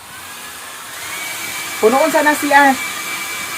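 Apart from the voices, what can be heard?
hair dryer blowing hair dry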